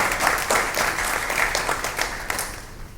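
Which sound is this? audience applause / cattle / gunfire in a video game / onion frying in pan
audience applause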